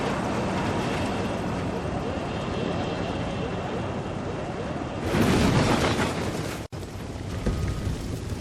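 A loud explosion in Ghost Recon Wildlands comes as a sustained roaring rumble with a sharper burst partway through, heavy and dense over continuous game noise, with a brief cut near the end.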